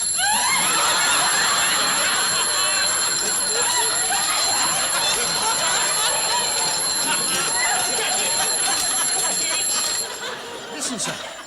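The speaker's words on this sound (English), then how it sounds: "Sounds like an alarm clock." A mechanical alarm clock rings continuously with a shrill, rattling bell, loud and unbroken for several seconds before fading slightly at the end.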